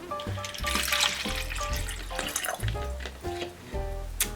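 Water poured from a gallon jug into a small container for a homemade snow globe, with a close, splashing, gurgling fill broken into a few pours.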